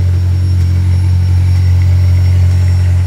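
A restored Ferrari F355 engine runs at a steady idle, a loud, deep, continuous rumble heard close up with no talking.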